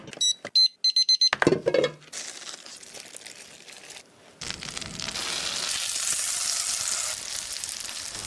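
Steak searing in a hot pan, starting with a few short clicks and rustles, then a steady loud sizzle building and holding to the end.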